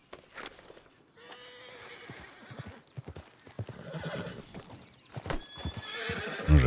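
Horse in a video game whinnying and snorting with hoof clip-clops, moderately close, rising louder toward the end amid some background game noise.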